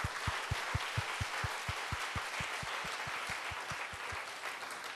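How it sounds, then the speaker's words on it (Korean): Congregation applause during a Wednesday church worship service, a faint wash of clapping over which a steady, rhythmic thump or clap pulses at a regular beat, with no voices. "우리 박수로 크게 하나님께 영광 드리겠습니다"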